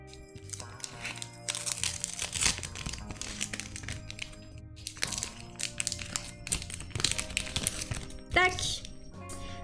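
A Pokémon card pack is opened, its foil wrapper crinkling and crackling in close, busy bursts, with cards shuffled and handled between rustles.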